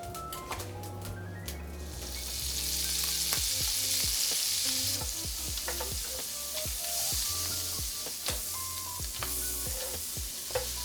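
Butter sizzles and browns in a large, shallow skillet over medium-high heat with a steady, close frying hiss. Scattered clicks and scrapes of stirring come through on top.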